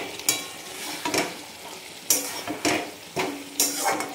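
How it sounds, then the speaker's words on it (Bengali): Mango pickle with vinegar being stirred in a pan: repeated scraping strokes of a spoon against the pan every second or so over a soft sizzle, close and clear with no talking. "নাড়িয়ে চাড়িয়ে"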